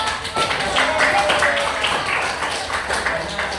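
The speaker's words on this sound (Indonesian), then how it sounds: "Beri tepuk tangan untuk kelompok" Classroom applause for a student group that has just finished presenting, a dense patter of hand claps sustained for a few seconds with voices mixed in.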